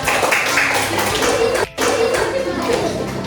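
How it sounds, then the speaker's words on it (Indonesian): Classroom of children clapping their hands together in a dense burst of claps, close and fairly loud, with a brief pause midway and children's voices mixed in. "tepuk tangan untuk kita semua"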